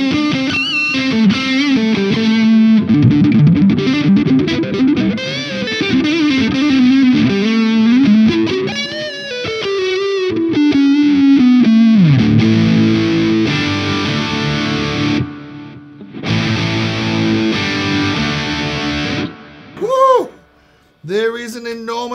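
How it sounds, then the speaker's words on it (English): Electric guitar through a Laney Lionheart Foundry Super 60 112 amp with a space echo effect in the effects loop, distorted bending lead lines and chords with echoing repeats, loud, ending in sparse trailing notes. "I've just turned on the space echo in the effects loop."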